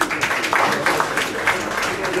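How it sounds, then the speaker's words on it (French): Applause for the guest Aka Félix, a naturotherapist, at a Bible dedication ceremony, a short, steady burst of crowd clapping with irregular accents and faint voices mixed in. "qu'on applaudit très fort"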